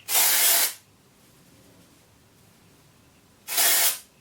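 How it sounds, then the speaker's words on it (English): Two short, loud bursts of Colab dry shampoo sprayed onto hair, a hissing blast at the start and another near the end, with quiet between them. "let me just do a bit of dry shampoo, shall I? This is the Collab dry shampoo."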